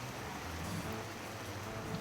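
Steady rain pours over an emptied market street lined with shuttered shops and tents, a continuous close hiss with no pauses or voices.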